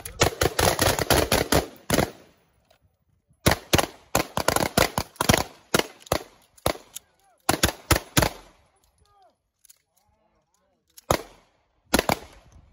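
Carbine shots crack out in rapid bursts during a carbine-to-pistol transition drill, loud sharp reports in clusters broken by short silences, with a few faint voices in the gaps.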